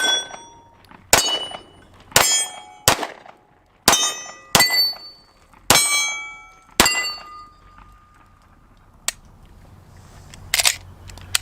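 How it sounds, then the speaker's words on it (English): A Glock 19 9mm semi-automatic handgun fires about eight sharp, loud shots in an uneven sequence, each with a short ringing tail, followed by a pause and a couple of fainter metallic clicks and clatters. "Let's go ahead and shoot the Glock 19."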